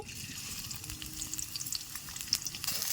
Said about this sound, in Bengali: দিয়ে দিলাম কড়াইতে সাদা তেল কুচানো পেঁয়াজ কুচি